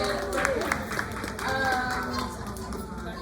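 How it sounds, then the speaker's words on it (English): At a community baby shower, an audience claps in scattered, moderate applause beneath overlapping chatter and voices. "Give a clap for it."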